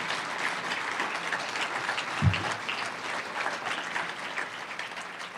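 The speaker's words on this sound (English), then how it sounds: "please join me in a final round of applause for all our award recipients" Audience applause fills the room at an awards ceremony honoring recipients of the Gold Axe and Distinguished Senior Awards, a steady dense clapping sustained throughout with no voices on top.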